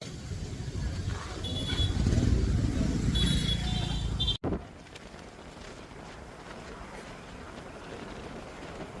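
Motorbike riding along the Ha Giang Loop in Vietnam, a steady engine and wind roar loudest in the first half, then dropping to a lower, rougher rumble after a brief break.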